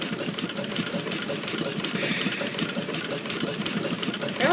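A goods train engine chugs along the tracks, giving off a steady, rhythmic run of quiet mechanical beats with a faint hiss, heard on its own with no voices.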